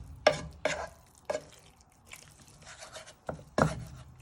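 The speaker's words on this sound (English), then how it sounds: "So you're just breaking them apart using your wooden spoon." A wooden spoon knocks and scrapes in a pan, breaking apart steak and kidney meat as it browns. There are about six sharp, close strikes at uneven intervals over a faint sizzle.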